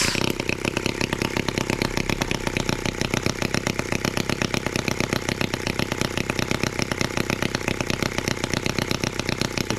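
An M14 twin-cylinder tractor engine runs steadily close by, a fast, even chugging pulse that stays loud and regular throughout, with no talking.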